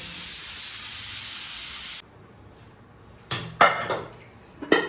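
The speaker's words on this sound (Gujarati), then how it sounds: "અમારી કુકરની સીટી તમને કાંઈ સંભળાવવા દેશે નહીં, ચાલુ થઈ ગઈ છે વાગવાની" A sharp, loud hissing whistle of a pressure cooker that cuts off abruptly, followed by a few clinks of pots and utensils.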